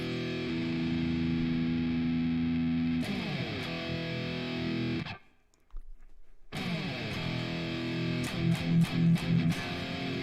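Music run through the Spatializer effect on iOS at full strength, sounding smeared and widely spread, with a sudden near-silent dropout before it returns with sharp, choppy transients.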